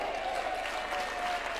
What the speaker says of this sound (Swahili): Pigeni makofi.